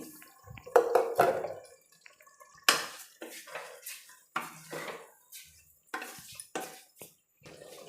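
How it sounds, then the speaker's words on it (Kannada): Washed rice is tipped into a cooking pot for tomato bath, giving a series of sharp metallic clinks and scrapes with short wet pattering bursts, close and uneven, with no one talking. "ನಾನು ತೊಳೆದಿಟ್ಕೊಂಡಿರೋಂಥ ಅಕ್ಕಿನ ಸೇರಿಸ್ಕೊಳ್ತಾ ಇದ್ದೀನಿ"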